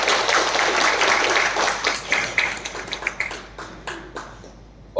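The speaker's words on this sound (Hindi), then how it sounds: "तो एक बार तालियां इनके लिए बजा दीजिएगा।" Audience applause following a dance performance at a school scholarship event, a dense wash of clapping that thins into scattered individual claps and taps before fading out.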